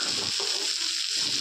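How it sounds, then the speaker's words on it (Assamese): Cabbage and capsicum stir-fry with freshly chopped tomato just added, sizzling in a pan; a brief, steady hiss with faint stirring and no voices. "সৰু বিলাহী এটা কুটি লৈ ভাজিখিনি দি দিছোঁ"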